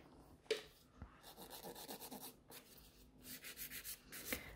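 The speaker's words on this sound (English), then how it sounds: "Then file everything around the cuticle area." Soft, close filing strokes on a sculpted gel nail extension around the cuticle, short scratchy rubbing bursts in an uneven rhythm, quiet and without talk.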